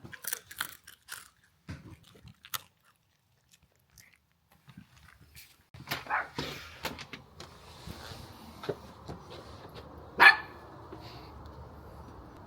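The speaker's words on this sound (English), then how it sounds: "Every time we walk out the door, she just starts barking." A dog barks at the door as people head out, giving a scattered run of sharp, fairly close barks with quiet gaps, then shuffling and a loud single bark near the end.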